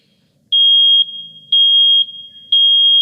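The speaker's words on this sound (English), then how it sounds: "if the Nest Protect senses smoke or carbon monoxide" Nest Protect smoke alarm sounds three loud, piercing half-second beeps spaced evenly about a second apart, close and clear against near silence.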